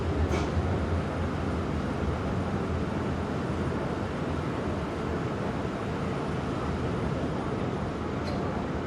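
A Škoda Varsovia metro train on a non-passenger run rolls through the M1–M2 connector tunnel near Rondo ONZ station in Warsaw, a steady, fairly faint rumbling roar with brief high squeals near the start and end.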